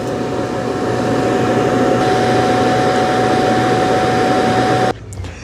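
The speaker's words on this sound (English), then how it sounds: "there's the auto empty system," A Roborock Qrevo robot vacuum's auto-empty system roars steadily as it sucks out the dustbin, a loud, constant whooshing drone with a faint tone that cuts off abruptly near the end.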